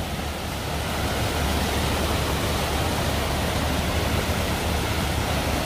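Water rushes loudly and continuously through a dam or reservoir embankment breached by a hydraulic excavator, a dense, steady roar like a waterfall with no other sounds standing out.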